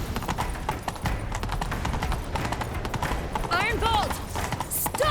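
Horses gallop in The Witcher 3 with a dense, rapid clatter of hooves. Characters talk over the run, and a horse whinnies near the end.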